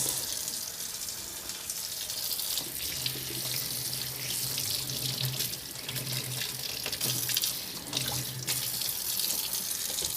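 Black cod fillets rinsed under a running kitchen tap, a steady hiss of water with faint splashing and handling of the fish, quiet and continuous.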